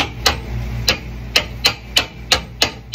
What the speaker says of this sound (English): So this is a slag hammer.